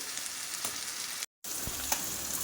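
Onion and garlic paste fries in a pan with a steady, fairly soft sizzle, cut by a brief moment of silence partway through, with no speech.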